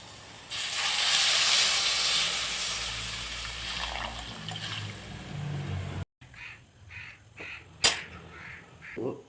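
Water poured into a pan of fish curry with Veluri fish, turmeric and salt gives a loud, steady hiss for several seconds, then drops to quieter simmering with scattered clinks and a sharp tap.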